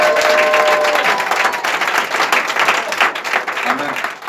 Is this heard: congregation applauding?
yes